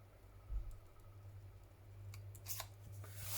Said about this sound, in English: I'm going to trim that off like so, and there's a little bit here.